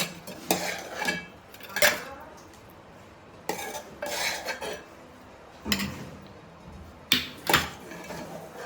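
A spoon mixes mashed food in a dish, giving short scraping and clinking bursts of metal against the dish at irregular intervals, fairly close and moderately loud, with quiet gaps between them.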